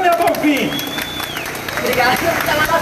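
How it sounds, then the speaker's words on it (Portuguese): Applause and cheering from a crowd at a São Paulo protest rally defending Petrobras and its oil workers, greeting Sâmia Bonfim; steady clapping runs throughout, with a shrill whistle and crowd voices mixed in. "Uma salva de palmas para essa guerreira, lutadora do povo brasileiro, Sâmia Bonfim"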